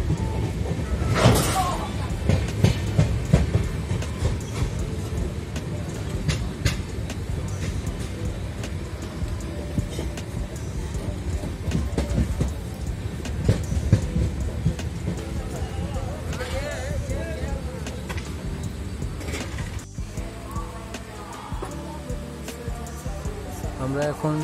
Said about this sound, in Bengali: এবার সাসারাম জংশন থেকে আমাদের ট্রেন চলছে